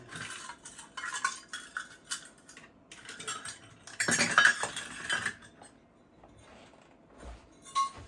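A butter knife scrapes across a half-cup measure of powdered sugar for an angel food cake, giving a run of close, light metallic scrapes and clinks, with one louder stretch of scraping partway through and quieter taps toward the end.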